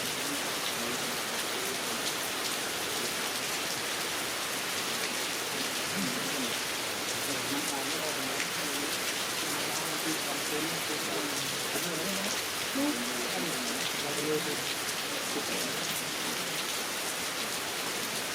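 Heavy rain pours down outdoors in a steady, dense hiss of drops striking surfaces, loud and unbroken throughout, with a few faint voices buried beneath it.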